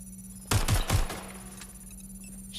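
Watch Dogs Legion gunfire bursts suddenly in a short cluster of three or four close, punchy shots over about half a second, then drops back to a low steady background hum.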